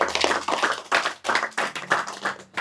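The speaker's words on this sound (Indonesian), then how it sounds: "Tepuk tangan untuk mereka." Audience in a campus religious study session claps in short, uneven bursts, several separate rounds of hand clapping starting and stopping in quick succession, fairly close and moderately loud.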